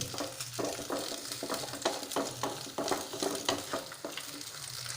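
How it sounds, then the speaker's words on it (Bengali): Egg fries and sizzles in a kadai for a dhaba-style egg tadka, with a spatula stirring and scraping in a quick, regular rhythm, close and fairly quiet, without talk. "এবারে আপনারা কড়াইতে এরকমভাবে জিনিসটা একটু নেড়ে নেবেন।"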